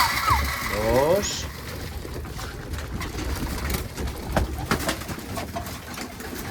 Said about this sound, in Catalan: Aquest any tinc un pèl de superpoblació, masses coloms.